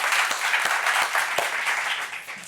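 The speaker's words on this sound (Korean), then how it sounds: "하나님께 영광의 박수 올려드리겠습니다" A church congregation breaks into loud, sustained applause, a dense wash of many hands clapping together close by, with a few sharper claps popping out.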